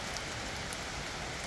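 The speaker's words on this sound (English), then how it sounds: "It's raining." Steady rain falling on a Friday afternoon, a dense even patter of drops on surfaces, continuous and fairly faint with no talk.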